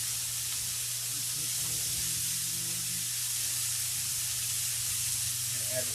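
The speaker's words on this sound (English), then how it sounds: "let's let that just saute there for a minute" Mushrooms sautéing in ghee on a Blackstone griddle give off a steady, soft sizzling hiss that runs unbroken throughout, with a low hum underneath.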